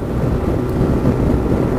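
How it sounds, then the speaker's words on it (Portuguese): Strong wind gusts batter a scooter rider on the road near Osório, Brazil, in a continuous loud, low roaring rumble of wind across the microphone. "Tá ventando muito, chega a dar cada rajada no Animax"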